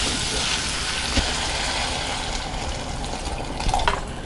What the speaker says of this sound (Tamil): தேவையான அளவு உப்பு ஆட் பண்ணிவிட்டு தண்ணி ஊற்றி வேக வச்சுக்கலாம்